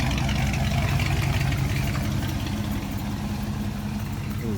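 A 1995 Ford Mustang GT engine idles steadily with a deep, continuous rumble, heard up close during an oil change without voices.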